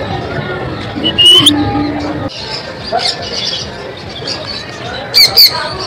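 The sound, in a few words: white pigeons at a fun fair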